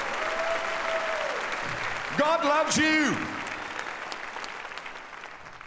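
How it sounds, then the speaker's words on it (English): Church congregation applause at a sermon gathering, a steady bed of hand clapping running throughout while someone speaks briefly over it, then continuing more softly. "give a better hand clap than that tonight"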